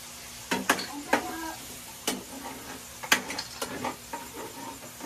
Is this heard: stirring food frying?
yes